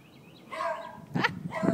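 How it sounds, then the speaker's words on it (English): A beagle next door barks a few times, muffled and at some distance, with short yips spaced apart over quiet room ambience. "Apparently there's a beagle next door."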